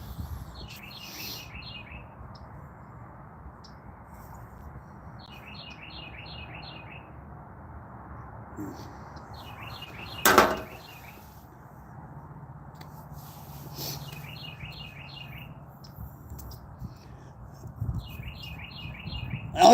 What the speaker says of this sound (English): I'm hearing birds chirp.